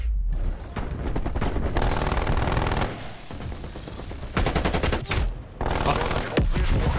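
Rapid automatic gunfire and shotgun blasts in the multiplayer shooter Call of Duty Black Ops Cold War, loud bursts rattling in quick succession with brief pauses, while a player speaks over the action.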